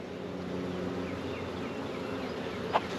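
Honeybees in an open hive during a spring inspection make a steady, dense buzzing hum throughout, close and even in level, with one brief brighter blip near the end.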